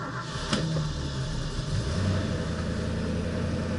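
A 1966 Ford Mustang engine runs after a choked start, a steady moderate rumble with a slight rise in revs, close by, with a brief click near the beginning and no voices.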